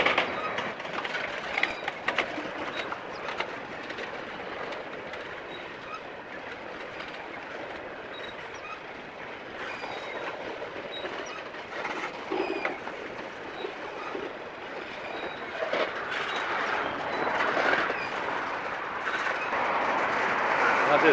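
A train rolls by at walking speed during a meet at a dark signal, its steady rumble and faint clickety-clack going on for a long stretch and slowly growing louder toward the end.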